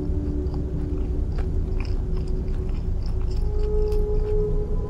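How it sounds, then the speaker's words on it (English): Loud, close crunching and biting from pizza being eaten in the game Fears to Fathom, a steady run of gritty chews over a low humming background. "Hang on, I'm eating my pizza."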